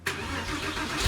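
A Porsche 911 Carrera with a rebuilt M96 engine bursts into a running, rising engine note in fourth gear, loud and close, with no talk over it.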